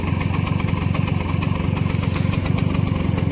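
A 1961 150 cc motorcycle rides along at around 80, its small engine giving a loud, close, steady rapid chug with no pauses.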